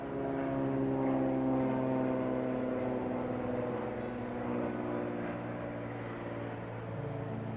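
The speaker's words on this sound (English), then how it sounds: "Sorry about the plane." A propeller airplane drones steadily overhead, a low continuous hum that swells slightly and then slowly fades, with no voices.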